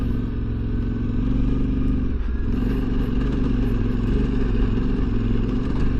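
A Yamaha Ténéré 700 adventure motorcycle is ridden in second gear through canyon and dirt corners, its engine holding a loud, steady drone up close with a slight dip midway.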